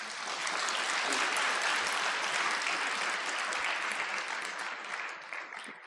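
An audience claps continuously at a spiritual youth class, a dense, full-room wash of applause that holds steady and eases slightly toward the end, with no one speaking over it.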